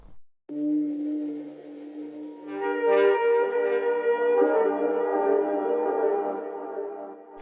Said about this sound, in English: It's a really cool haunted synth texture.